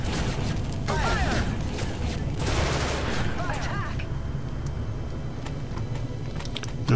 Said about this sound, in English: mounted on the top of the shuttle is a automated gun turret